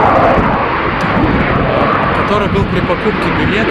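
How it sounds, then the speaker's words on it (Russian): An S7 Airbus A321neo airliner takes off with a steady, loud, close roar of jet engines that fills the whole stretch, while a person talks over it. "Вот самолет взлетает"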